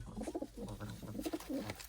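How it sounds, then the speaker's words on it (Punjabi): Soft, low cooing of a white female pigeon repeats in quick rolling phrases, close by and fairly quiet, with no talking. "ਚਿੱਟੀਆਂ ਖਟੀਆਂ ਅੱਖਾਂ ਵਾਲੀ ਕਬੂਤਰੀ ਬਈ ਚਿੱਟੀ ਕਬੂਤਰੀ"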